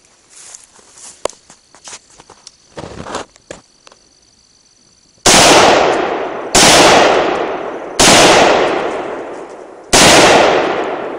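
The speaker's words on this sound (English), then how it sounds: "It looks like out of the 5 rounds that I fired" Four loud, sharp rifle shots of 5.56mm and .30-06 rounds fired outdoors at a hard drive ring out at uneven intervals, each with a long decaying echo, after a stretch of quiet shuffling footsteps and small handling noises.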